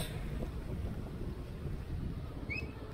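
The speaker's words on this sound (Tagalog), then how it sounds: "Malakas na, dito pa lang malakas na ang hangin." Strong typhoon wind roars continuously against the microphone, a dense low buffeting rumble with no pauses, a few faint high whistles near the end.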